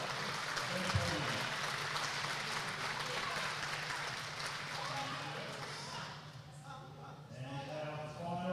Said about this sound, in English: Round of applause for our junior female event podium.